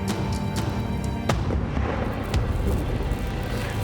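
Hunting rifle shot fired at a moose in the Yukon wilderness, a sharp crack followed by a lingering outdoor rumble and echo over wind noise, with a few fainter thumps after it.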